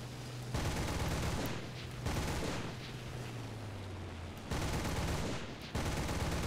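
Aircraft machine guns fire in War Thunder during a dogfight with Spitfires, loud sustained bursts in several rapid strings separated by short pauses, with engine drone underneath.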